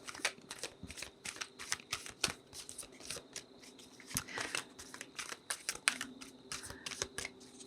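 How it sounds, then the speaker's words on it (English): Tarot affirmation cards being shuffled and drawn by hand, giving close, rapid, irregular bursts of papery riffling and slapping clicks across the whole stretch, with no talking. "So I'm going to pull an affirmation card for you"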